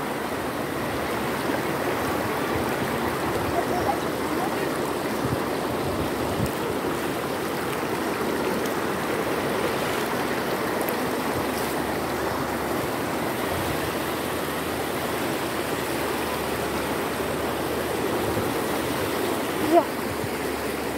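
A river flows in a steady, broadband rushing wash, close and continuous, with a brief knock near the end.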